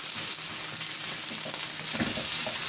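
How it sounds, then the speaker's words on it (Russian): Potatoes with marinated pork fry in a pan, giving a steady, close, loud sizzle with faint crackles throughout and no voices. "И будем жарить ее до готовности."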